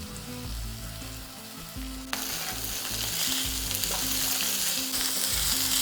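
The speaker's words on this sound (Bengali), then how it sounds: "দেখুন পেঁয়াজটাকে হালকা সতে করে নিয়েছি" Onions sautéing in a pan for a rohu fish dish, a steady sizzle that swells louder partway through as they are stirred, with occasional scrapes of the spatula.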